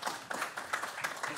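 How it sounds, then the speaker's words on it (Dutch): An audience at an architecture prize event claps, with steady, moderately loud applause in quick, even rhythm and no speech over it. "En geef ze maar een hartelijk applaus,"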